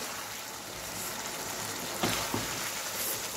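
Carrot snack with fried egg, ginger and garlic stirred in a pan, a steady soft sizzle with a couple of brief scraping strokes, quiet and close.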